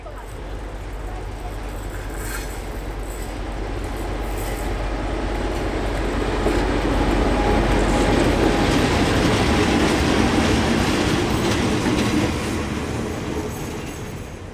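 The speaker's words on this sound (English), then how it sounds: "DC 4628 and DXC 5425 arrived and stopped on the main line" KiwiRail DC 4628 and DXC 5425 diesel locomotives roll in on the main line, a loud, steady engine rumble with rail noise building to a peak mid-way and easing slightly at the end, with no talking.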